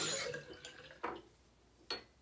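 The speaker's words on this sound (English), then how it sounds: "Let's rinse everything off." Running tap water rinses a face after a shave with a Gillette razor, opening with a bright splash that trails off, followed by two short, sharp bursts of water spaced about a second apart in an otherwise quiet room.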